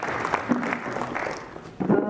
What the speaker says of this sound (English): I request a big round of applause for our